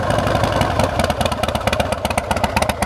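A warmed-up Harley-Davidson Fat Bob motorcycle engine idles nearby with a loud, lumpy, uneven rumble and rapid clattering pulses.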